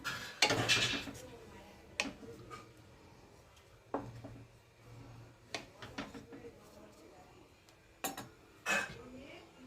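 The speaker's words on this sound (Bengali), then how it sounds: "ঢাকনা দিয়ে দিলাম কড়াইয়ে।" A lid goes onto a kadai of prawn malaikari simmering in coconut milk, producing a few sharp metallic clacks and taps spaced apart over a quiet kitchen background with faint, muffled talk.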